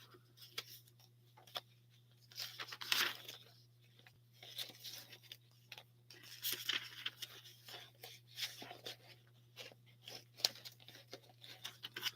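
Paper repair tickets for a car being leafed through by hand: intermittent crinkling, rustling and flicking of sheets close by, irregular bursts over a steady low hum, no speech.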